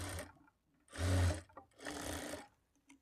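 Sewing machine stitching a lined blouse, heard in two short, close bursts of motor whir with brief pauses between them and no talking.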